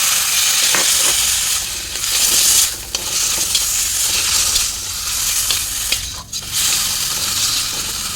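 Taro pieces with grated coconut sizzle steadily in a frying pan while being stirred, with repeated scraping strokes over the continuous fry.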